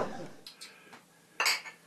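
Glasses clink together a couple of times in a home beer-brewing toast, light close chinks rising out of a quiet room with brief talk around them.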